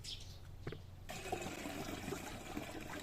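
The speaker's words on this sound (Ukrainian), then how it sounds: "тепер виливаємо прилипач і доливаємо е, до кінця" Water is poured into a sprayer tank holding fungicide mix with sticker for treating tomatoes against late blight. A faint, steady gurgling stream starts after a brief quiet moment and runs on alone.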